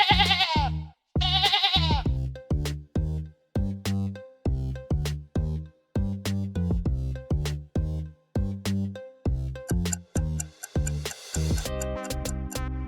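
Sheep bleating, two nasal wavering bleats at the start over a steady ticking countdown of evenly spaced clicks that runs loudly through the rest, ending with a brighter chime.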